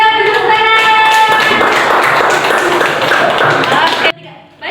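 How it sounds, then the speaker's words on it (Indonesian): A class of schoolchildren breaks into a short round of group hand clapping after a voice, the applause continuing for a few seconds before cutting off abruptly. "1, 2, 3, beri tepuk tangan."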